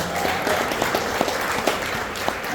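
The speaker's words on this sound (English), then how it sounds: "Everybody give her a round of applause," Audience applause at a college resource center ribbon cutting, honoring Dr. Barbara Dunsheep: a steady wash of clapping from a crowd, moderately loud throughout, with a few sharper individual claps standing out.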